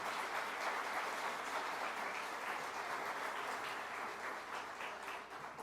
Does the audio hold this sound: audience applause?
yes